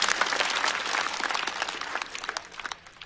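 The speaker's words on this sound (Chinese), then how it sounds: "再次掌声送给步俊云。" Studio audience at a stand-up comedy show bursts into dense, sustained applause, many hands clapping close and loud throughout, fading slightly toward the end.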